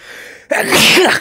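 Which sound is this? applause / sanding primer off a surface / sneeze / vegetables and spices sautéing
sneeze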